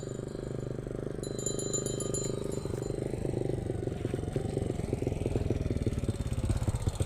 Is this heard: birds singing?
no